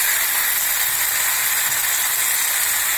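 Pumpkin pieces sautéing in hot oil with tomatoes, a steady, even sizzle and hiss that continues without a break.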